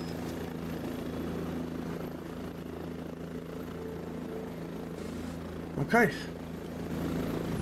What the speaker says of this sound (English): Why is there a chopper here?